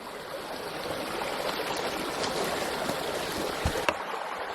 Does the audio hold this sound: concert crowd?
no